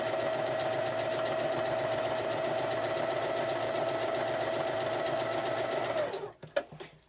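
A sewing machine stitching a quilt block runs fast and steady at close range with a rapid even clatter for about six seconds, then slows and stops with a few final knocks.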